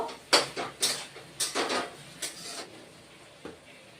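Ridge gourd and mung dal being sautéed in a pan, heard as a series of sharp scraping and clattering stirring strokes, loud at first and then thinning to a few faint taps, with no talk.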